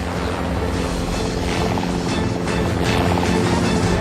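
Attack helicopter in flight, a loud, continuous rotor and engine drone with a steady chopping pulse and no voices.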